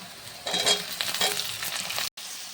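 Ginger paste and chopped tomato fry in a pan for a fish and cauliflower curry, a close sizzle rising as a utensil stirs through it, followed by a brief dropout.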